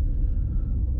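A rental car descends the back side of a mountain road toward Cabarete in the Dominican Republic, its engine giving a steady, close low rumble with no break and no talk.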